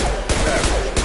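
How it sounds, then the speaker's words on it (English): Concussive shots fired in a Nancy Drew space-colony video game: two sharp, loud bursts about a second apart over a dense, continuous roar of game noise. "Firing concussive shot."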